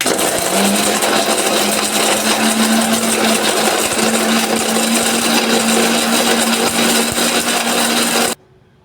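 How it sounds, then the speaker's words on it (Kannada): A mixer grinder whirs steadily at full, loud speed while powdering four cardamom pods, a continuous rough grinding roar with a faint hum line, ending abruptly when the motor cuts off. "ಇದನ್ನು ಮುಚ್ಚಳವನ್ನು ಮುಚ್ಚಿ ಇದನ್ನು ಪೌಡ್ರ್ ಮಾಡ್ಕೊಳ್ಳೋಣ ರೀ"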